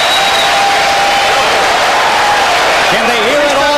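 A boxing crowd in Connecticut applauds and cheers loudly after a round, a dense roar of clapping and shouting with a whistle and whoops rising above it, a commentator talking over the noise.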